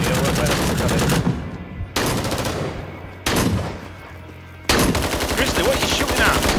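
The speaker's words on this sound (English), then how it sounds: "a lot of fire coming here" Sustained automatic gunfire during urban fighting in Hue City in the video game Rising Storm 2: Vietnam, loud dense bursts that cut off and resume in several blocks, with rapid shots and distant fire between them.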